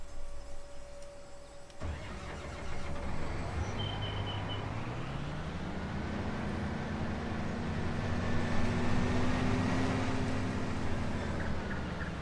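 A truck engine in Farming Simulator 19 starts up and runs at a steady, rising drone. It is close and continuous, with a whine that climbs as it revs, and there is no talk.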